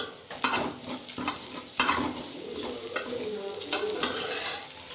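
Chili powder is stirred into a frying mixture in a pan, with a steady sizzle broken by several scraping strokes of the spoon, close and fairly quiet.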